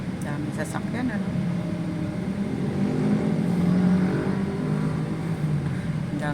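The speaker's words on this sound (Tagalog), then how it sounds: "Daming sasakyan sa Montalban." Road traffic in Montalban heard from inside a Toyota Raize E manual, a steady broad rumble of engines and tires with a rise in the middle, while people talk over it.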